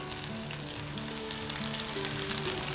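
Finger chicken frying on a low flame gives off a steady, even sizzle of hot oil, continuous and close, with no voices over it.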